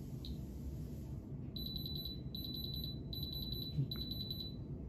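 A generic handheld diamond tester touched to a real diamond gives four rapid bursts of high-pitched electronic beeps in a regular pulsing rhythm, clear above a quiet hiss.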